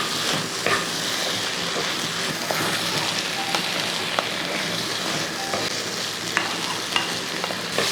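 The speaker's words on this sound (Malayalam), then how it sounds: "എല്ലാം കൂടെ കൂട്ടി ഒന്ന് ഇളക്കി കൊടുക്കും." Okra, green chilli and tomato stirred as they fry in a pan, giving a steady close sizzle with scraping stir strokes and small spoon clicks throughout, and no talking.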